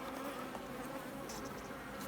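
A steady, dense hum of many honey bees buzzing close by at a log hive, continuous and fairly quiet.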